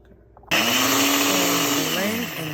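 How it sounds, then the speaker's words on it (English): A kitchen blender switches on abruptly after a brief quiet moment, whirring loudly and steadily as it purées a sauce with pepper for oyster mushroom tacos, pitch wavering slightly as the contents churn. "And blend until smooth."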